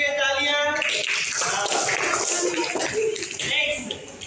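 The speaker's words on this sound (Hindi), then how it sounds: "इनके लिए तालियां" Classroom students clapping, a scattered burst of handclaps mixed with children's voices, fairly close and busy throughout.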